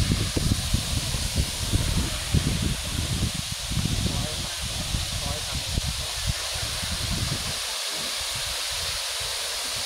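Wind-blown spray at a Laotian waterfall gives a steady broad roar, with gusty low buffeting from wind on the microphone and voices talking over it.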